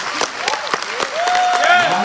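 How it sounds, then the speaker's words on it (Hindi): Listeners at a leadership talk break into brief, close applause, a dense patter of clapping mixed with overlapping voices and a few tonal squeaks. "मन मस्त हो जाता है ताली सुनकर"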